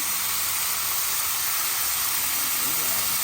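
Minced garlic and sliced onion frying in a hot pan while pancit is cooked, giving a steady, loud, broadband sizzle and hiss with faint background sounds underneath.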